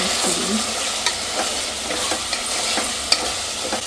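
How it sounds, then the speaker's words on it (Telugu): Chicken sizzling and frying with chili powder in a pressure cooker for chicken biryani, a steady close hiss with occasional soft stirring clinks and scrapes. "చక్కగా ఉడుకుతుంది చికెను"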